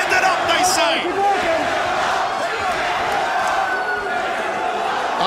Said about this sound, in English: And listen to the crowd. Stand it up, they say.